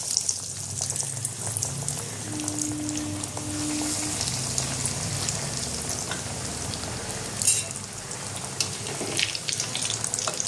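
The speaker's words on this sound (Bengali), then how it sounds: "এবার আমি এগুলো ভেজে নেব" Soya chunk cutlets sizzle in hot oil over low heat with a continuous crackling hiss, occasional sharper spits and a brief watery splash partway through.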